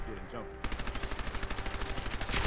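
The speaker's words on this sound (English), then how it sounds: "Shoot them in the face." Automatic gunfire in the video game Fallout 4 while shooting Mirelurks: after a moment of speech, a steady rapid string of evenly spaced shots rattles on, loud and continuous.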